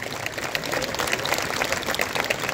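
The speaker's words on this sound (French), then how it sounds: "Vos applaudissements et joyeux anniversaire pour ce 105e anniversaire de l'association Vichy et ses sources." Crowd applause at a costume parade for the 105th anniversary of the Vichy et ses sources association, a moderate, busy patter of many hands sustained across the moment.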